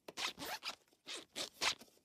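Zipper zipped in several quick, rasping strokes, close and fairly loud, in a cartoon scene with no talk.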